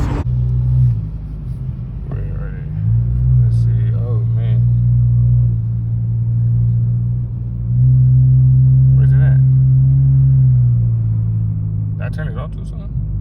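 A car performing a launch control start holds a deep, loud engine rumble that swells and surges, with voices talking over it.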